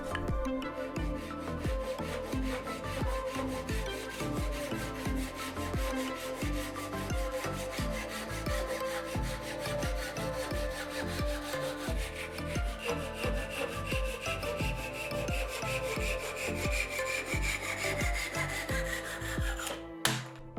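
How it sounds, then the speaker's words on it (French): A Japanese hand saw cuts wooden battens for a thread-spool holder, with steady, rapid back-and-forth rasping strokes that run close and continuously for about twenty seconds with no talking. "Toutes les découpes sont réalisées à la scie japonaise."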